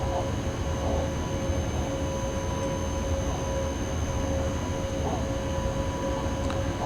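Locomotive in the SimRail train simulator game gives a steady, unbroken drone with a sustained tonal whine over a rumbling low end, continuous and fairly loud throughout, with no talking.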